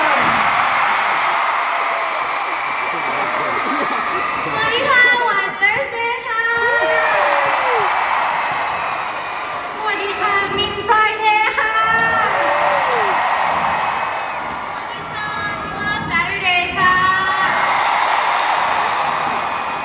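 A large crowd at a concert screams and cheers in repeated loud bursts, with high shrieks rising over a constant roar of voices.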